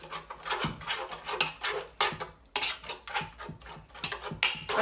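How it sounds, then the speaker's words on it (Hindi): Chicken being mixed in a pan with a utensil gives close, repeated scraping and clattering strokes in an uneven rhythm, loud and with no voices. "तो अब इसको मिक्स करेंगे, मिक्स करते रहेंगे।"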